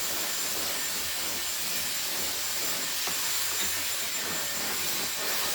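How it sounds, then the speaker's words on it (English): A hair dryer blows steadily on short bob-cut hair, a loud, constant broadband whoosh with no pauses and no voices. "Blow drying, I think, is the most boring thing to watch"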